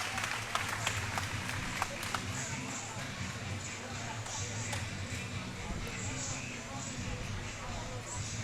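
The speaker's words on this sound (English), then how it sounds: "Round of applause from the audience." Fight crowd at an MMA cage event applauding after a knockout, a broad wash of clapping and murmuring at moderate distance, steady throughout with a low hum underneath.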